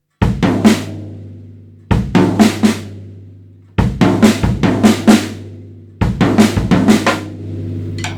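A short drum phrase repeats four times, each a bass drum thump followed by a quick run of snare and tom strokes, loud and close, with ringing decay between.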